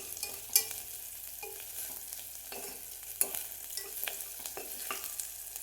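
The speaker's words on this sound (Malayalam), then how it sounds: "ഈ ഉള്ളി ഇതെല്ലാം നന്നായിട്ടൊന്ന് വഴറ്റി കൊടുക്കാം" Onions sauté in a pan for sadya rasam, a quiet continuous sizzle broken by occasional spoon stirs and clinks, no voices.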